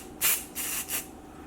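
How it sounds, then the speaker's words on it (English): Hair texture spray hissing from an aerosol can near the roots in three short bursts, the first loudest, close and crisp with no talking. "it says to spray on the roots, but I like to spray it right here"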